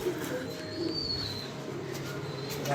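Pigeons coo softly in a quiet outdoor setting over a low background hum, with faint bird calls and no clear talk.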